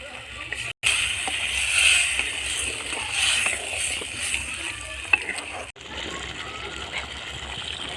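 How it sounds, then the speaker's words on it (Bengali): A little water added to spiced potato and pointed gourd curry in a pan, close sloshing and splashing with a sizzling hiss, someone talking over it. "মশলার সঙ্গে জল দিয়ে দেব অল্প করে জল দেবো"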